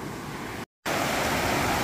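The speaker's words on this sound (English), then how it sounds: "You can see the water's really flowing." Strongly flowing creek water rushing through a canyon, a steady broadband roar close by, broken by a short silent gap partway through.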